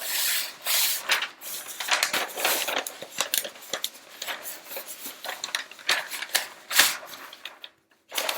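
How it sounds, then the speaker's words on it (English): Sheets of paper are pulled out and shuffled, giving a busy run of rustling, rubbing and crinkling sounds close by, with short pauses and a few sharper handling noises. "I'm going to pull out some paper here"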